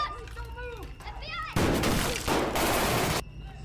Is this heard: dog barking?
no